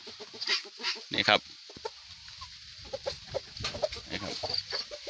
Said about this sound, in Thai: สิเป็นไก่ชนครับ พี่น้องไก่ตีนะครับ